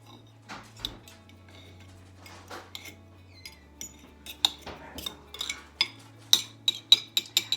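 A knife taps repeatedly on a cutting board, uneven chops quickening into a steady run of sharp, close knocks, with no talking.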